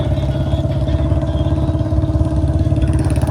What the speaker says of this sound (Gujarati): આ બુલેટનો અવાજ બહુ આવે યાર